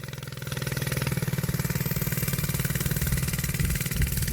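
A CRZ Racer 100cc budget go-kart engine runs up in a rapid, buzzing pulse, its tone rising slightly as it gathers speed, close and fairly loud with no talk over it.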